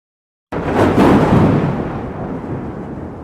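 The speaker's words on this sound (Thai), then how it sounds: "เสียงฟ้าร้องที่ดังสนั่นทั่วท้องฟ้า" A sudden deep rumble of thunder bursts in, swells loudly, then slowly fades into a long, rolling decay.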